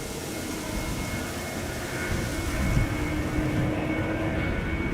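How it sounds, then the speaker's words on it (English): A KLM Boeing 737-900 at Amsterdam Schiphol Airport gives a steady, broad jet roar at moderate distance, swelling slightly midway and holding at an even level throughout, with no talk. "KLM flight 1269 to Copenhagen. 737-900."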